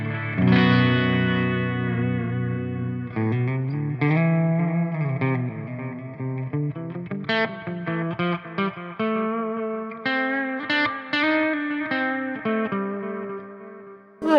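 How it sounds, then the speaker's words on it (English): Electric guitar played through the clean channel of an ENGL E670 amplifier with reverb and delay engaged, sustained chords and melodic notes ringing steadily with echoing tails for about fourteen seconds, loud and close, no talk. "And the clean channel with the reverb and the delay engaged."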